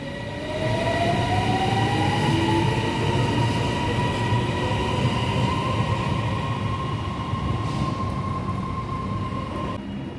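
A Bangkok Airport Rail Link train rumbles steadily as it pulls away from Phaya Thai station, with a rising electric motor whine that levels off into a sustained tone.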